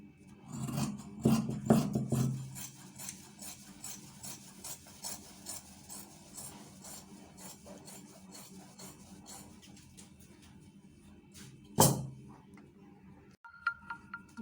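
Scissors cut through fabric for a batwing kaftan, giving a long run of soft rasping, rubbing snips that are steady and fairly quiet, with one sharper snip near the end.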